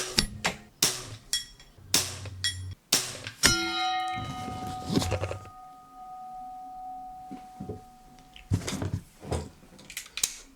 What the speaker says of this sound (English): I keep seeing the flattened lead pinging off it, but I can't see where it's hitting.